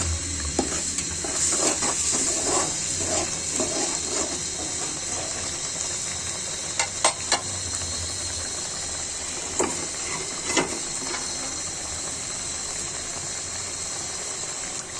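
Pieces of rui (rohu) fish are dropped into a pan of frying masala. A steady close sizzle and hiss runs throughout, broken by occasional scraping and clinking from a utensil, with no voices.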